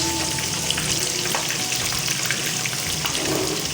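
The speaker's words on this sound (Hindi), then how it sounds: "ये देखें कितनी अच्छी हमारी फ़िश जो है वो फ्राई हो चुकी है।" Fish pieces frying in a pan of oil for Lahori fish fry, a steady dense crackling sizzle running without a break, close and fairly loud, with no voices.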